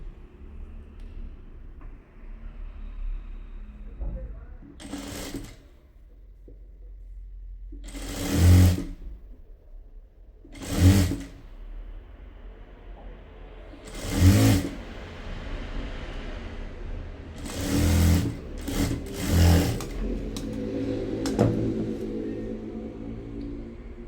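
A sewing machine stitches two pieces of fabric together for pencil pants, running in a low steady hum broken by several short louder bursts of fast needle action, heard alone without talk.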